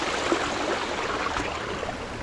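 A creek swollen with rainwater rushes steadily at a park used for RC vehicle events, a constant moderate wash of flowing water with no voices.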